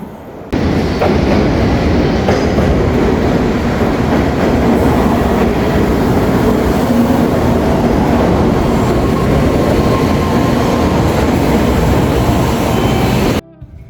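Electrified Shinkansen bullet train heading from Tokyo toward Mount Fuji, heard from inside the carriage as a smooth, continuous low rumble and wind hiss that holds steady throughout with no voices.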